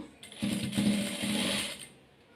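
Sewing machine stitching a seam on a nighty, a close rapid mechanical whirr in several short bursts with brief pauses, rising and fading over a couple of seconds.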